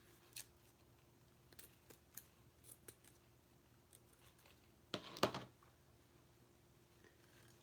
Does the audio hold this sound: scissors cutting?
yes